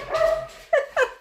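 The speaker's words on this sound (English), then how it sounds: "Listen to the dad dogs playing." Dogs playing at home let out a string of close, lively barks and high yips, with some whining tones between the sharper barks.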